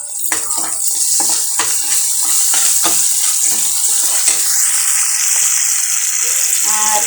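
Ginger and garlic paste sizzles steadily in hot oil for a Malabar spinach and shrimp dish, with scattered scraping stir clicks throughout.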